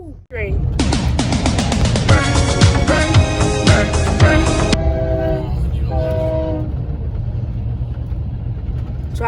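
A freight train rolls past at night with its horn blaring in long, loud blasts over heavy rumbling, then the horn tones fade while wheels keep rolling, with people talking nearby.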